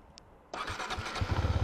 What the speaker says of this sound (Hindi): सबसे पहले मुझे बाइक को स्टार्ट करना पड़ेगा और बाइक स्टार्ट होगी